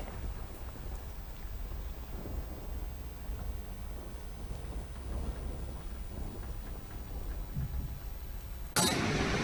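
Heavy rain falls steadily on surfaces as low thunder rumbles beneath it during a monsoon downpour in Netrang, Bharuch, and a sharper burst of noise comes in near the end.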